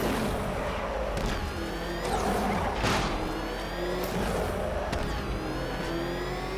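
A car drifting in an Arkham video game, with steady loud engine drone, squealing tyre tones and occasional impact clatters throughout.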